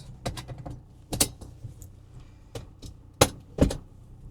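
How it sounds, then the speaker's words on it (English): Inside a manual-transmission car, a seatbelt is pulled across and buckled, making a sparse series of sharp close clicks and metallic rattles separated by quiet gaps. "Let's put this seatbelt on because safety first."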